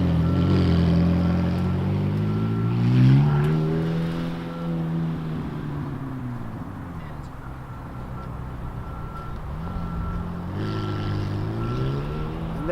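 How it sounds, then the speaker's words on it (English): McLaren Senna supercar pulling away, its engine note rising and falling through several revs, loud at first and then easing off into the distance. "There goes someone in their brand new McLaren Senna."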